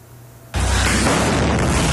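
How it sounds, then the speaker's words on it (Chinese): Explosives detonated by the Israeli military on open ground in Gaza go off as a sudden loud blast, followed by a sustained broadband roar with a low rumble that fills the rest of the clip, with no voices. "在一片空旷地面上引爆炸药"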